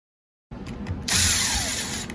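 A power tool whirs into action on the bottom end of a CR250 two-stroke engine, driving in bolts after a moment of silence, then rising to a louder, steady whine that runs until the end.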